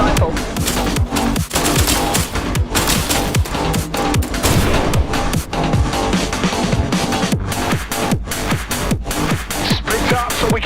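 Assault rifle fire in a video game hammers out in long rapid bursts, loud and close, nearly continuous for the whole stretch with brief gaps between volleys.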